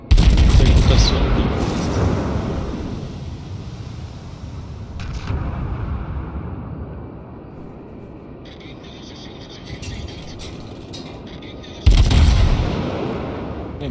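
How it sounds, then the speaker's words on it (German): Heavy naval gunfire in World of Warships pounds toward the player's ship, with booming salvos at the start and again near the end and a rumbling tail between them. Distant shell hits and a voice are also heard. "Die schießen alle auf mich hier."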